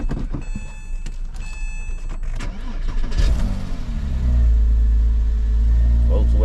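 A Volkswagen car with a manual transmission and 117,000 miles is started with the key. The engine cranks, catches and settles into a loud, steady idle, and speech is heard beforehand.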